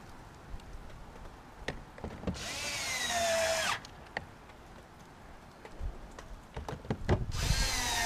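A power screwdriver drives door panel screws back into a 2015 Subaru Forester, making two short, close, whirring bursts separated by quiet handling clicks and taps.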